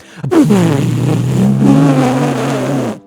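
A voice imitates a stick-shift car engine revving like a race car: a loud, sudden buzzing whine that climbs and holds for nearly three seconds before cutting off abruptly.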